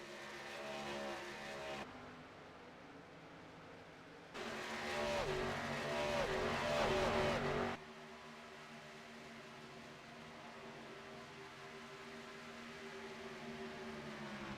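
Race cars from a K&N Series event at Michigan in a racing video game, engines droning and revving steadily with a louder, rougher burst of engine noise as cars pass closer midway.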